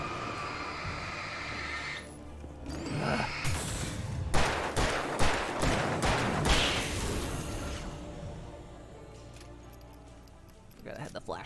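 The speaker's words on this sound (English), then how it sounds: "forgot I had the flashbang equipped" A flashbang detonates in the video game Alan Wake Remastered, a loud burst of crackling, popping blasts lasting a few seconds amid game noise, with faint talk underneath.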